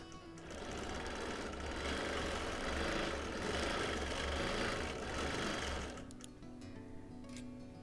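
A sewing machine stitches a quilt of linen-blend sampler blocks, running with a steady rapid mechanical whir for about six seconds before slowing and stopping, close and fairly quiet.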